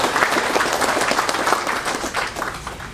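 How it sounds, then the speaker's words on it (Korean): An audience at the Nogunri Peace Prize award ceremony applauds to welcome the judges: steady, dense clapping from a sizable crowd for three seconds, easing slightly toward the end. "박수로 환영해 주십시오."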